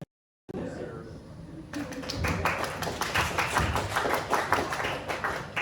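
An audience claps steadily, a dense patter of many hands building and continuing, with some voices mixed in.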